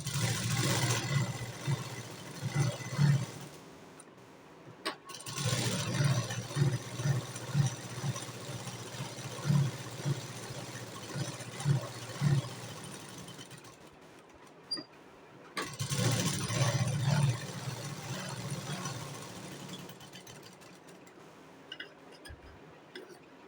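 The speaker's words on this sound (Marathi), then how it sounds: "त्याला सर्व साईडून शिलाई मारून घ्यायची." A sewing machine stitching around a blouse sleeve, rapid ticking runs of stitches in several bursts separated by short pauses, close and moderately loud.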